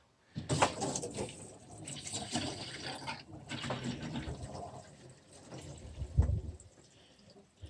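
Water rushes through a whole house water filter housing after the outlet valve is opened. A steady hiss of flow comes with gurgles and a few knocks in the plumbing at moderate level, and no one talks.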